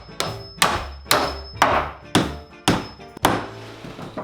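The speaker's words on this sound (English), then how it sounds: "To do this, I was simply using nails and a hammer." Steady hammer blows driving nails into a wooden box frame, about eight strikes at an even pace, each a sharp close knock with a short ringing tail.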